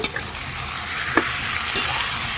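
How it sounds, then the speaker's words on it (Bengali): Chicken pieces being stirred into lightly fried onions in a hot pan for chicken khichuri, a steady soft sizzle with a few scraping stirs of the spoon, close and alone with no talk. "এবার আমি চিকেনগুলো দিয়ে একটু নাড়িয়ে নেব"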